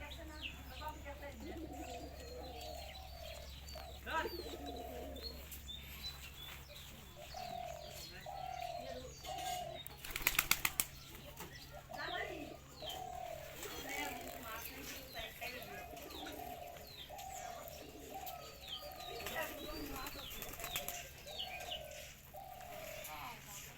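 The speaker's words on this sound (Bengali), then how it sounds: "আমার এই কবুতর জোড়া" Lakha pigeons cooing in a coop, with repeated soft rolling coos recurring in bursts over a constant low hum, a short flutter of wings near the middle, and a voice speaking quietly at times.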